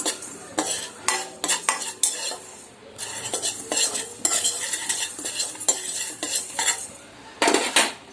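Cumin seeds frying in a pan as a spoon stirs and scrapes them, with repeated metallic clinks and scraping strokes at close range over a faint sizzle, no voices.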